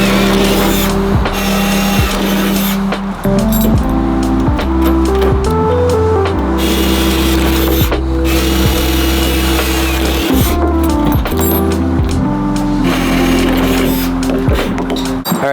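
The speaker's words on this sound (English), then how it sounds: "I just drilled all of the holes for the U-bolts" Power drill boring holes through plywood for U-bolts on a Sherpa roof rack, a loud continuous whine with stepped pitch changes as the bit starts, bites and stops repeatedly across the stretch, up close with no talk.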